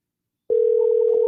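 A steady telephone tone sounds alone after half a second of silence, a continuous ringback-style tone on an outgoing call that goes unanswered, with faint clicks near the end.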